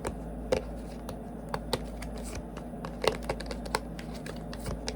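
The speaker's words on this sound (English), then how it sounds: "If you don't like the shuffling, you can speed ahead." Tarot cards being shuffled by hand during a reading, a steady soft rustling with sharp slaps and riffles at irregular intervals, close and quiet, with no talk.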